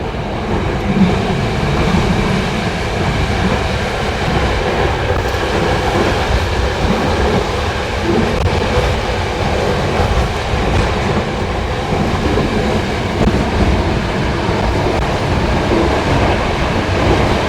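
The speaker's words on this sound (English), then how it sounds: "it's a very long train ride" A train from Bulgaria to Romania rolls steadily along the rails, with a loud, constant rumble and faint rhythmic clatter throughout, no voices.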